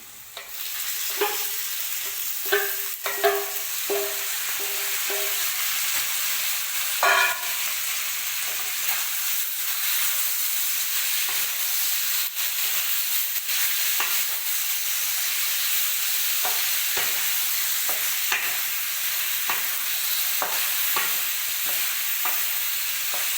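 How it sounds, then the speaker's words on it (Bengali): Bone-in chicken pieces frying with vegetables in a pan for homemade chicken momo, a loud continuous sizzle close by, broken by repeated scraping clicks of stirring throughout. "একটু সামান্য আমি সবজির সঙ্গে একটু সামান্য ভেজে নিলাম"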